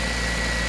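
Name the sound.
K-swapped Honda Jazz engine running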